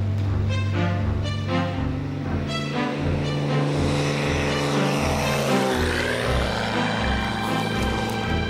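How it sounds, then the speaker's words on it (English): A small plane's propeller engine drones steadily and loudly throughout, with a continuous rumbling hum and no talking. "Alfredo arranged for a plane to collect us"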